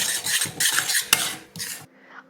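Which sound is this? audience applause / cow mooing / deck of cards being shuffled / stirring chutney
stirring chutney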